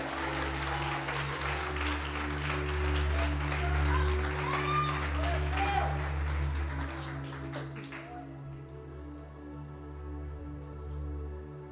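A church congregation claps to exalt God during a sermon, producing sustained, dense applause for about eight seconds. It then drops away, leaving a low hum and quieter room sound.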